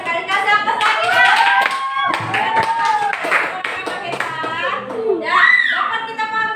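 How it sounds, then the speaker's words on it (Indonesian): Schoolchildren clap their hands in a junior high classroom, a fast rattling burst of applause that runs the whole time, with children's voices calling out over it and a teacher's voice near the end. "Kasih aplaus lagi"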